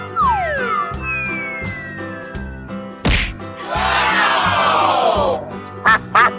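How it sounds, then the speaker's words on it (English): Cartoonish electronic duck quacks cut through bouncy game music, along with sweeping tones and a noisy whoosh. "Quack, quack, quack, quack."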